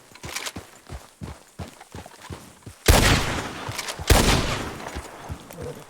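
Video game gunfire in a Western-style horseback setting: a rapid run of single sharp shots, then two loud booming blasts with long rumbling tails, close and punchy with no talk over them.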